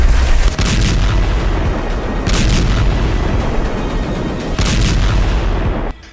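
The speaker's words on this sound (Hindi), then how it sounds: "जरा इसराइल की आईडीएफ के हवाई हमलों के इस वीडियो को देखिए।" Loud, continuous blasts and rumbling booms from Israeli IDF airstrikes on Gaza, with several heavier thuds rising through a dense roar that holds steady for the whole stretch; no voices.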